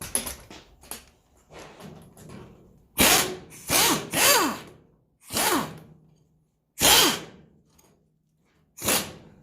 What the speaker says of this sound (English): see if we can't get the wrench in there